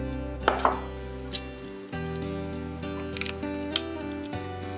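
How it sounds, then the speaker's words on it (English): A knife chopping garlic cloves on a cutting board while preparing focaccia toppings, a few quick close taps over a steady background tone. "Now I just want to cut all of these garlics."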